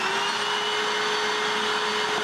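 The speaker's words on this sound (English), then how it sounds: "I've taped that same bag on this vacuum so we can compare the airflow." An upright vacuum cleaner runs with a bag taped on for an airflow test, a loud, steady whooshing roar with a constant motor whine, close and continuous throughout.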